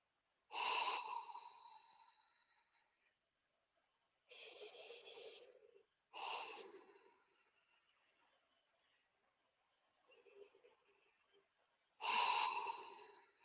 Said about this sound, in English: And taking those deep breaths